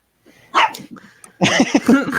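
A pet dog barks close by in a house: one sharp bark, a short pause, then a rapid run of several loud barks.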